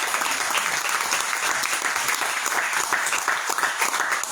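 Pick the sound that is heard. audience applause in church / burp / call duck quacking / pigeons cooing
audience applause in church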